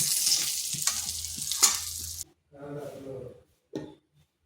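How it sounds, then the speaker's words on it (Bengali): Pointed gourd (potol) fries in oil in a pan while being turned, a dense close sizzle with scraping stir strokes that cuts off abruptly, followed by a few brief knocks and clatters. "পটলগুলোকে এইভাবে নেড়ে চেড়ে ভেজে নিয়েছি"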